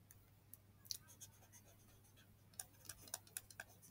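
Chalk or marker strokes on a board during a lecture, quiet scratchy taps and short scribbles, scattered and faint over a low room hum.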